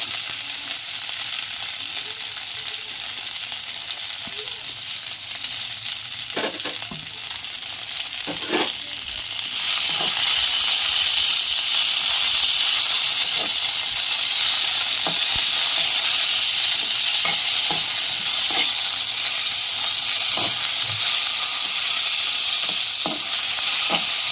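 About twenty green chillies fry in a pan for coconut chutney, a loud, continuous close sizzle that swells partway through, with occasional stirring clicks and no talking.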